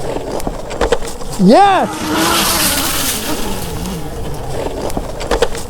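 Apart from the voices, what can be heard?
budget electric mini bike riding at full throttle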